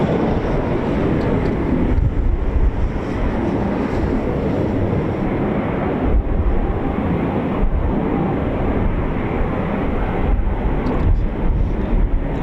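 Four Eurofighter Typhoon jets of 41 Squadron take off together at RAF Coningsby, a steady, loud, broadband roar that holds throughout with slight surges, heard from a distance amid wind.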